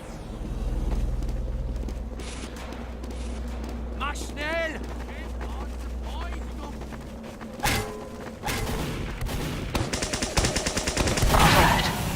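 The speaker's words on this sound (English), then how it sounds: "Unfortunately, Invaded walks around the corner and eats a pipe for the purposes of getting him to explode" Sticky bomb and pipe explosions go off in a Team Fortress style shooter match, with repeated booming blasts and gunfire bursts across a busy battle while players talk over the noise.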